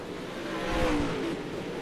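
Pro late model race cars roar around the Limaland track, a dense, steady engine drone with a slight swell in the middle, heard from a distance with no talk over it.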